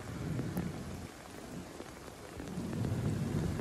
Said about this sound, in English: This is dropping a lot of rain in a short period of time.